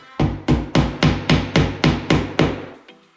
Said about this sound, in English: Mini hammer, love it.